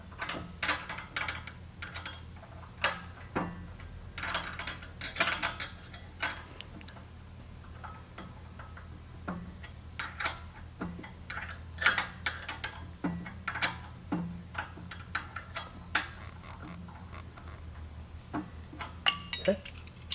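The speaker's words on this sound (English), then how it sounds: "Tighten the bolt up with two 13mm wrenches." Metal clicks and ratcheting from two 13mm wrenches tightening a bolt on a pallet truck toe guard fitted at the steer wheel, coming as repeated sharp ticks in irregular bursts over a low steady hum.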